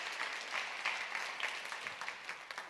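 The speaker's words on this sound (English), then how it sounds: "We can give a round of applause to our speakers." Audience at a science, technology and innovation equity event clapping for the speakers, a dense, even round of applause filling the room at moderate volume, with no speech on top.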